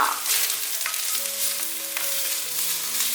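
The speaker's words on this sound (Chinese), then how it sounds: "香菇大概炒了3-4分钟，把猴头菇还有红萝卜放进来" Shiitake mushrooms stir-fried with lion's mane mushroom and carrot in a vegan home kitchen give off a steady, dense sizzle and crackle, with faint tonal notes underneath and no talking.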